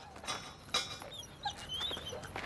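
A dog whimpers in a short run of thin, high whines and yelps, fairly faint and close, with no talking.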